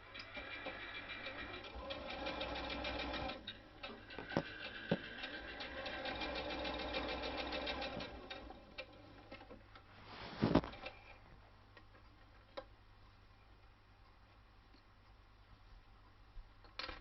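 A sewing machine stitches close along the edge of a fabric tablet cover, a soft whirring run with ticking for about eight seconds, then quieter scattered clicks and handling.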